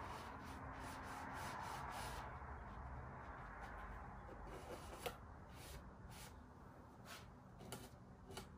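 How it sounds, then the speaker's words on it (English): A damp rag wiping glue squeeze-out off a wooden electric guitar kit neck, a close, soft continuous rubbing with faint scraping strokes and a few light taps, no talk. "I'll clean off all the squeeze out with a damp rag"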